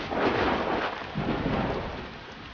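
Thunder rumbles under steady rain in the Helium video game, two broad low rolls swelling and fading over a constant hiss of rainfall, no voices.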